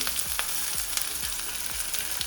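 Onion, crushed ginger and garlic sauté in a hot pan with a continuous close sizzle, broken by regular spatula scrapes about every half second.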